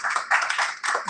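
Audience clapping at a church sermon, a dense burst of many hands close by, steady for a moment with brief dips, no voices over it.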